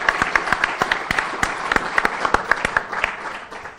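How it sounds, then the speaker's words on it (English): Audience applause at a university engineering and computer science alumni awards ceremony, a steady patter of claps with sharper individual hand claps standing out, fading slightly toward the end. "So why don't we give a round of applause to Mike, who's making it here"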